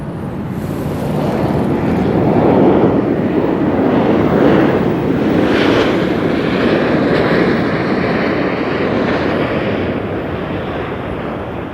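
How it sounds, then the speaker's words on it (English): A FedEx Boeing 767 taking off from Harry Reid International Airport in Las Vegas, a loud, steady jet roar that swells and lingers across the whole stretch, mixed with wind buffeting on the microphone. "that FedEx flight that just took off, that was going to be FedEx flight FDX 627. And that was a Boeing 767"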